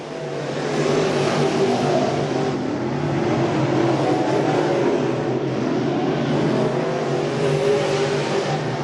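Race cars roaring around a crate racing track, a dense continuous engine drone from a pack of cars that holds loud and steady throughout.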